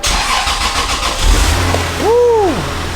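A Toyota Supra MK4 15th Anniversary Edition engine cranks and catches, settling into a steady low idle, with a brief electronic whistling tone rising and falling over it, close and fairly loud.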